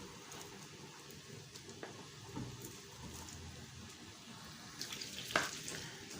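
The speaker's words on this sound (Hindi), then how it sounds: "तो कढ़ाई के अंदर जो है मैंने ऑयल शामिल कर लिया हस्ब ज़रूरत। तो अब इसके अंदर हम शामिल करेंगे प्याज।" Onions fry in oil in a kadai for a turnip and pea dish, a faint, soft sizzle with occasional spoon clinks and one louder scrape near the end, no talk.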